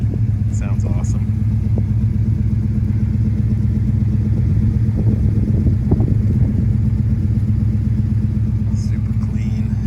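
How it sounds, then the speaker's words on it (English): A 1969 Plymouth Satellite convertible with a Borla exhaust gives a steady, deep engine rumble with a throaty low exhaust note throughout at close range, with faint clatter and brief higher sounds on top. "As you can tell, it's got the nice Borla exhaust on"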